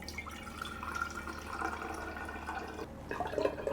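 Water runs and trickles into a container of distillate nearby, a steady pour that grows a bit louder and gurgles toward the end.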